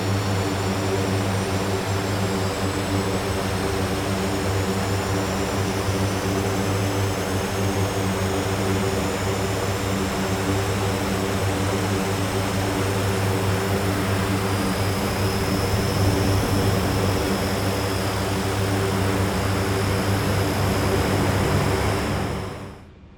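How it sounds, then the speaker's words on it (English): A C-130J turboprop's fourth engine spools up in the DCS World flight simulator, giving a loud, steady propeller and turbine roar with a faint high whine that holds throughout before cutting off abruptly at the end. "Let's start engine 4."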